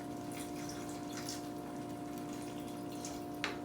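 Water poured into a pan holding a tomato juice mixture for a Hungarian paprikash breakfast, a steady liquid pour running for several seconds at low level, with a short sharp clink near the end and no talking.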